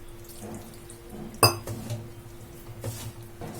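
A spoon clinks sharply against a bowl once amid soft, wet stirring of vada batter with water, close and fairly quiet.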